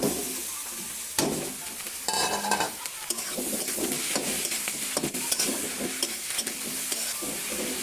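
Boiled drumstick leaves and red lentils go into a pan of onion and garlic fried until deep red, followed by a close, steady sizzle with repeated stirring scrapes and clatters of a utensil against the pan.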